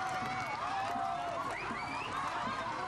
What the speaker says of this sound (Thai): ลองฟังกองเชียร์